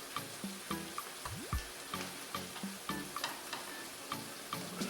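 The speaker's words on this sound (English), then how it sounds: "sauce is now mixed with the vegetables and cooking some of the liquid out" Kielbasa sauce with mixed vegetables sizzles and bubbles in a pan, a steady close frying hiss broken by regular soft stirring scrapes and taps, with no one speaking.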